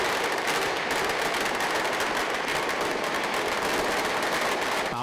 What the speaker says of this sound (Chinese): 爆竹声此起彼落